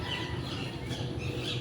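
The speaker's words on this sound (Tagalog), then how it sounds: "May mga ibon din dyan sa baba" Caged birds squawk close by in short, repeated calls over a steady low hum, with no voices present.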